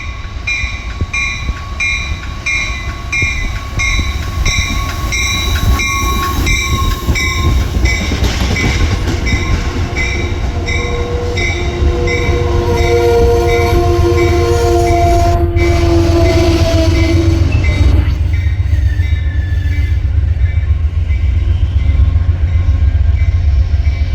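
An Amtrak train pulls into a Boston station, loud and close, with a sustained horn blast of steady tones in the first half, then rumbling wheels and descending brake squeals as it slows, with no talking.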